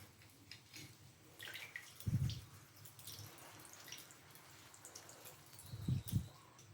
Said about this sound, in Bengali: পুরো ছানাটা দিয়ে দেওয়ার পর এবার নর্মাল জল দিয়ে হালকা ধুয়ে নেব।